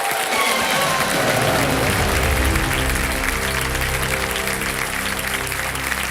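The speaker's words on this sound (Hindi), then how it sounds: "तालियां बज जाए" Studio audience on the Kaun Banega Crorepati quiz show breaks into dense, sustained applause that fills the room, with low music tones running underneath.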